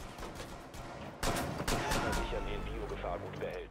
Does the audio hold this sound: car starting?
no